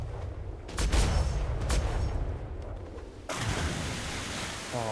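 Large ship cannons firing in a Royal Navy roleplay video game, several heavy booms in quick succession followed by rolling rumble and a sudden burst of broad noise, loud and close.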